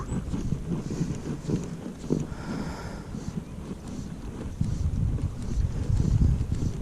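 Wind rushes and buffets steadily throughout beside a river in Portugal, a rough low roar with gusty swells that grow stronger toward the end.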